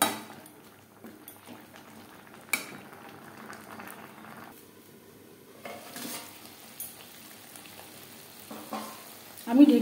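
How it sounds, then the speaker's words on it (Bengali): Mutton sautés over a high to medium flame, a soft steady sizzle and bubbling with occasional spoon scrapes and pot clanks, faint and close. "হাই টু মিডিয়াম ফ্লেমে 5-6 মিনিট মাংস বেশ ভালো করে কষিয়ে নেব।"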